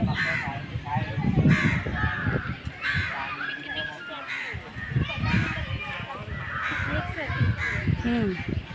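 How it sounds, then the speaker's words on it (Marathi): Crows caw repeatedly at a lake in Pune, loud and close, with overlapping calls and some voices mixed into the busy outdoor scene. "सुमधूर असा पक्ष्यांचा आवाज येत आहे"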